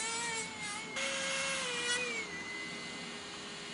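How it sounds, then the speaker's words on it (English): A polishing wheel buffs a handmade goldsmithing earring, giving a steady, close, high-pitched whine with slight pitch shifts as the piece is moved against it, with no voices. "Keep the wheel moving so that you don't gouge out an area, and you have a nice even polish all over."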